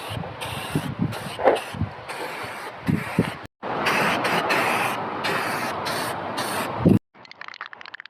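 Regular spray-can primer hisses onto a bicycle frame hung up for painting, in two long steady bursts of several seconds each, fairly close and loud, then a quieter, patchier stretch of spraying.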